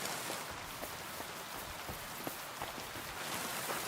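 Rain falls steadily in a video game set around Trosky, a soft, even patter with scattered sharper drop hits and no voices.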